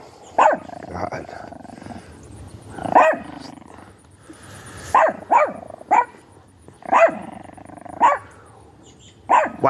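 A dog barks repeatedly, close by, in single and double barks spaced a second or so apart, with a low growly edge.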